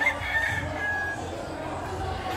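A gamecock rooster crows loudly and close at a breeders' booth, a single drawn-out call over a background of crowd murmur.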